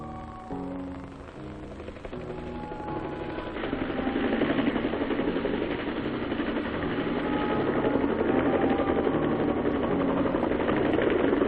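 A military helicopter in a Vietnam War setting, used for casualty evacuation and equipment transport, drones with a steady engine hum and rotor vibration that swells louder after a few seconds and holds, with no voices.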